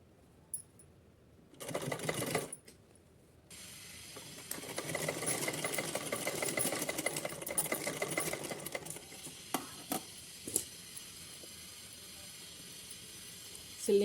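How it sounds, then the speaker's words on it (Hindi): A sewing machine stitches elastic onto a small doll cap for a Kanha ji outfit: a brief whirring burst, a pause, then a long steady run of rapid stitching with a few clicks at the end, close and alone. "चलिए तो इसको खींचते हुए सिलाई लगा लेते हैं।"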